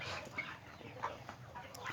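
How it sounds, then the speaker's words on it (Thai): Free-ranging domestic chickens about four months old, kept half-penned on a farm, cluck softly and intermittently at a distance beneath a steady wash of outdoor noise. "อันนี้คือไก่สี่เดือนกว่านะครับ"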